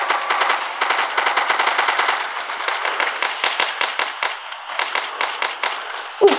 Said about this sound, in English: Oh, he's firing at me.